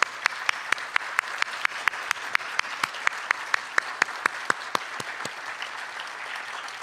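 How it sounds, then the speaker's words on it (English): An audience claps at a school poetry recitation event, with sharp individual claps standing out over a steady wash of applause that holds evenly for several seconds. "Let's give them a round of applause."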